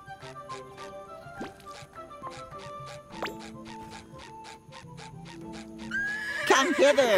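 A horse in the SpongeBob The Cosmic Shake video game whinnies loudly at the end, over a bouncy game music track with plucked notes, ending in a rising, wavering neigh up close.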